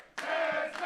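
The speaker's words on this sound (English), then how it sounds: "Crowd trying to power Desmond out of this" A wrestling crowd at a live pro wrestling show erupts in a sudden short roar of cheering and shouting, loud and close, lasting under a second.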